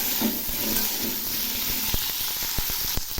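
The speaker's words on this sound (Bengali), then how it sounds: "এখন আমি এই ফুলগুলো একটু উল্টে পাল্টে ভেজে নেব।" Cauliflower florets turned over in hot frying oil: a close crackling sizzle punctuated by several sharp spatula knocks against the pan toward the end.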